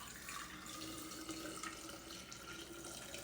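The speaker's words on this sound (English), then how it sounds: "we are going to pour the lime solution in to cover the eggs" Lime water solution pours steadily over fresh eggs in a container, a faint, continuous splashing trickle with no talk.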